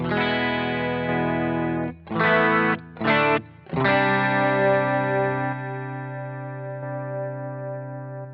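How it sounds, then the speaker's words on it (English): Sustained, thickly distorted electric guitar chords through a Boss GT-1 with boosted preamp ring out loud and alone, with two brief choppy stabs in the middle before a long held chord slowly decays. "If I boost that preamp, it sounds like this"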